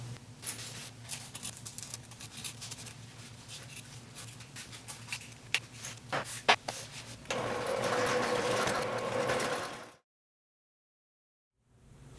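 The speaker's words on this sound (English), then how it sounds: "you're going to top stitch on the cork with a 1/4 inch seam allowance" A sewing machine topstitches on cork fabric with a 1/4 inch seam allowance, a fast, quiet mechanical chatter broken by sharp clicks, then a steady louder whir before stopping abruptly into silence.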